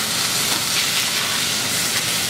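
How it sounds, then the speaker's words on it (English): Steady, loud, broadband hiss of steam rising as a splash of water hits assorted vegetables in a hot pan, sustained without break and with no voices. "adding a little bit of water to give it a steam action"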